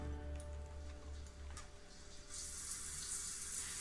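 Shower water running in the life-simulation game The Sims 4, a steady hiss of spray that swells louder in the second half, with no one speaking.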